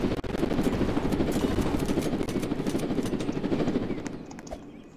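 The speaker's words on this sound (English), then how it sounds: "That's my helicopter." Helicopter in the Roblox game Jailbreak, a steady broadband rotor-and-engine drone holding loud throughout before easing slightly toward the end, with no talk over it.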